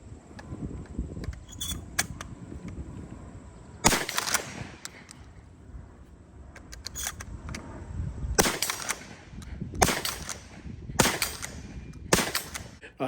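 A Benelli shotgun outdoors with sharp, loud shots spaced irregularly, one early and a tight cluster of four near the end, and quieter mechanical handling and reloading noises in between.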